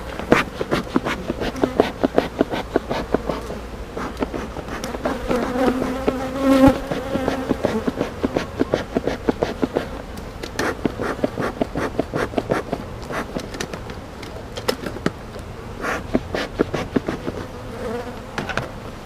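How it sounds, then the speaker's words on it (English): Honeybees buzz close around a beekeeper during a routine hive inspection on a warm day, a continuous insect drone with individual bees zipping past the ear in rapid fluttering passes, alongside light handling clicks. "the bees are remaining relatively calm, other than the few that are buzzing me"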